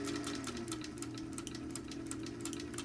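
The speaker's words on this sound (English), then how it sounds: "I'm letting the machine feed itself, and I'm just guiding it." Singer sewing machine running with a foot hemmer attached, giving a quiet, fast, even ticking and whirring of stitching under a steady low motor hum.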